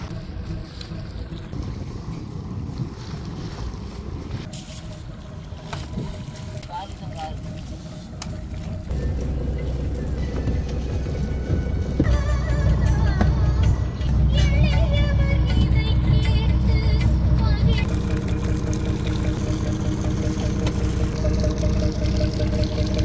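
A deep-sea fishing boat's engine drones at sea, a low steady rumble with wind and water noise that shifts partway through as the engine changes pace, with voices talking over it.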